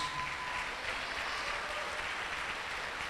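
Applause from a church congregation honoring two members, a steady wash of clapping that runs throughout, moderately loud and unbroken, with no voices standing out.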